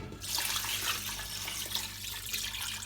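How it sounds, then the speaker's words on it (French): Cold water pours steadily into a saucepan of veal for blanquette de veau, a continuous close hiss and splash of running water filling the pan with no break. "Et j'y verse de l'eau froide."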